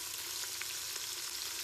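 Onions frying in oil seasoned with pulao masala for chicken biryani, a dense, even sizzle that holds steady and fairly quiet throughout, with faint stirring clicks.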